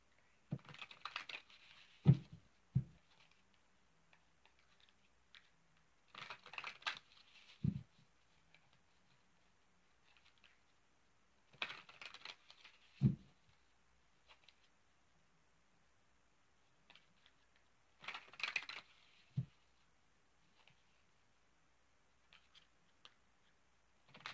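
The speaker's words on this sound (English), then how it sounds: "Give me a moment while I shuffle up the cards." Playing cards are shuffled in several short riffling bursts, quiet and close, separated by pauses and light taps as the deck is squared.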